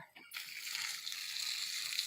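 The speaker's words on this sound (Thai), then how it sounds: "หาเทน้ำออกจากปูยาง" Water is tipped out of a rubber-tree latex collection cup in a plantation, a steady close splash and trickle that runs for about two seconds after a brief murmur.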